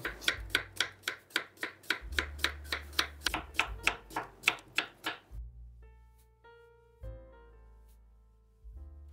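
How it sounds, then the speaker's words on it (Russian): A knife cuts three medium cucumbers into half-rings on a board, giving a steady run of crisp, close chops for about five seconds before the cutting stops and only quiet handling sounds remain. "Режу их полукольцами."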